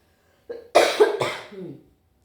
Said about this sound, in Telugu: దగ్గు మొదలు